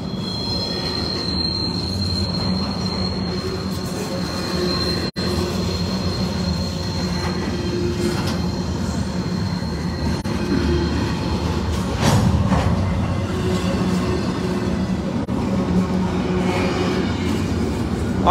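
A CSX freight train of empty well cars rumbles steadily past close by, its wheels letting out a sustained high metallic squeal over the continuous rolling roar.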